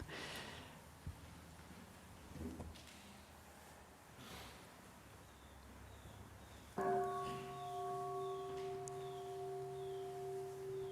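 A meditation bell is struck once after a few soft breaths and rustles, then rings on with a clear, steady, sustained tone that fades slowly in a quiet room.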